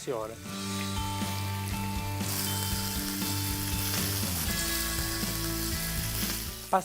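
Veal shanks for ossobuco milanese sear in a hot pan with a continuous close sizzle, heard beneath steady tonal background music throughout.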